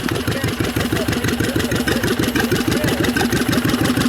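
An antique stationary engine in need of piston rings, running a little smoky at an outdoor steam show, chugs in a steady fast rhythm of low, close, loud beats amid outdoor background noise.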